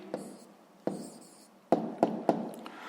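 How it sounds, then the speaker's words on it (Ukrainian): Pen scratching on paper while writing down the answer to a sixth-grade math exercise, in several short close strokes with pauses between them. "Так, записуємо відповідь."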